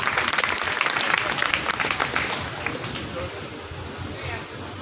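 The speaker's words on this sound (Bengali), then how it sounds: "সেই দর্শকদের জন্য আমরা আরেকটা করতালি দিই" An audience applauds at a Bengali New Year 1429 morning event at Dhaka Residential Model College, a dense, sustained clapping that gradually thins and softens, with voices mixed underneath.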